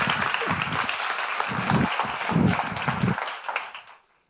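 Audience applause after a speaker is introduced at a popular-science talk event on viruses, a sustained burst of many hands clapping that carries for about three seconds and then quickly fades to silence.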